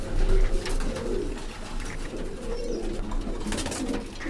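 Pigeons coo repeatedly in a loft, low throaty calls rising and falling in overlapping bursts close by, with light rustling and scattered chirps behind them.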